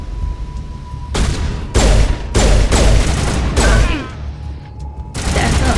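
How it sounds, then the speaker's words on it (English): Loud bursts of gunfire tear through a strip club in Mass Effect 1, coming in several separate volleys of rapid shots with short pauses between them. "Why are we shooting up the strip club?"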